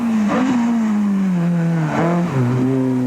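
A small Nissan Pulsar rally car engine revs high and loud on a tarmac rally stage, its pitch climbing and dipping through quick gear changes as it screams past nearby.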